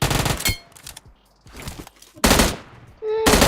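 Loud bursts of automatic gunfire in the mobile game PUBG Mobile, several sharp rapid volleys separated by short quieter gaps, close and dominant.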